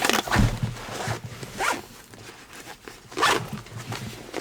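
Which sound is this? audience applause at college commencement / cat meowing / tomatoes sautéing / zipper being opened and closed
zipper being opened and closed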